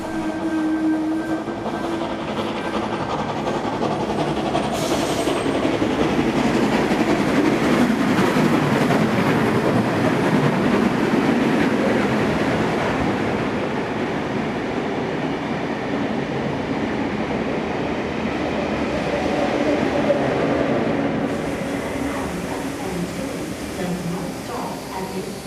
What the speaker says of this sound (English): At Arncliffe, 3526 passes by with its third train to Hurstville.